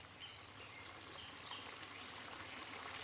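A river stream flows through a field of wild yellow and white pansies, a soft continuous rush and trickle of water, faint and even throughout, with a hint of a bird.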